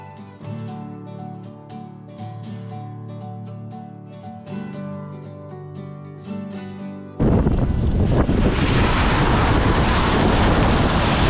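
Waves and strong wind at Elim Beach on Cape York, a loud, constant rush of surf and gusting wind on the microphone that cuts in abruptly after several seconds of music.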